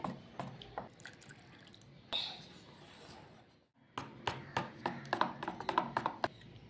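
Rice and lentil flour batter for chakli being stirred and whisked in a bowl: wet slapping and dripping strokes in irregular bursts, briefly pausing before picking up faster, close and moderately quiet.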